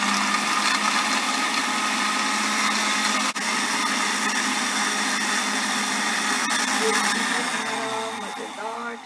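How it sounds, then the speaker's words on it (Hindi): A blender whirs steadily, blending halved strawberries into a milkshake, a loud continuous buzz that slows and winds down near the end. "डालें ब्लेंडर में और फिर चंद सेकंड्स के लिए हम ब्लेंडर को चला देंगे।"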